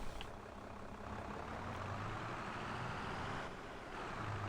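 Tractor engine in Farming Simulator 22 on the Ostseeküste 22 map, a steady low rumbling drone that holds at an even, moderate level throughout with no talk over it.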